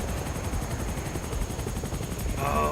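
A helicopter-like flying vehicle in a Halo CE campaign mod, giving a steady whirring engine drone with faint crackling weapon fire, loud and continuous.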